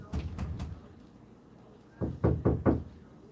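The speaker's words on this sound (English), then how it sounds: "Knock knock." Knocking on an apartment door: a quick group of three raps, a pause, then three louder, closer raps, with no talking.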